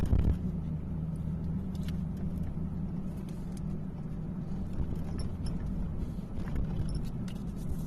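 Car interior while driving, with a steady low engine and road rumble that stays constant and fairly loud throughout, plus faint occasional ticks. No one speaks.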